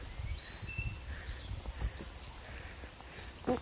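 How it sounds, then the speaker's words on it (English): Faint birds chirping and whistling in the distance outdoors, with light rustling and low background noise. "Can you hear all the birds?"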